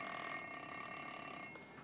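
Electric bell on a Maxitronix electronic lab kit rings continuously in a steady metallic trill for nearly two seconds, fairly close, with no talk, and cuts off sharply near the end.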